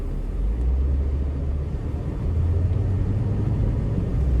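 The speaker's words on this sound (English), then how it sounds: "we're gonna take a cruise and I'll tell you what it feels like to drive" Steady low engine drone and road rumble inside a BMW 525 E34 wagon cruising along, a continuous even hum with no talk.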